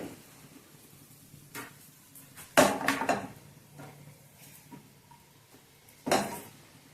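Roasted moong dal being scooped from a kadhai onto a plate, heard as a few clattering metal scrapes and clinks, with one burst of scraping around the middle and another near the end over quiet background.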